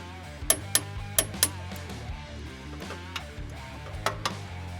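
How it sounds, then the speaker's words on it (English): A 15/16 wrench torquing a tie rod clevis on a Polaris RZR Pro R steering rack gives off a few sharp metallic ratchet clicks in quick bursts, heard close and fairly quiet over a low steady hum. "What you're going to want to do is hold the rack gear while you torque this."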